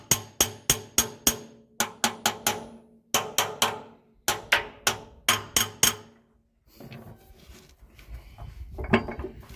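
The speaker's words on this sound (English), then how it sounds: "A few light taps of the hammer" Light hammer taps during transmission reassembly come close and crisp, in quick clusters of four or five metallic strikes separated by short pauses, then give way to softer rustling and clatter of parts being handled.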